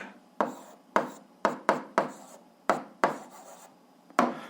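Someone writes out an algebra solution by hand in a series of short, sharp scratching strokes. The strokes come at an irregular pace, close to the microphone, with quiet gaps between them.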